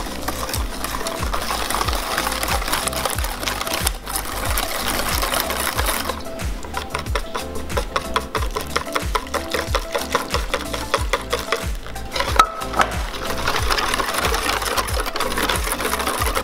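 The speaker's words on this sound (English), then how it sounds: "Just slowly stir it together until it's incorporated." Warm eggs are stirred into custard in a saucepan, giving a continuous rhythmic scraping whir that stays steady and fairly loud throughout with no talking.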